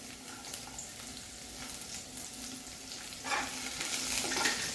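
Garlic and red chillies fry in hot oil with a steady close sizzle and occasional stirring scrapes, growing slightly louder toward the end.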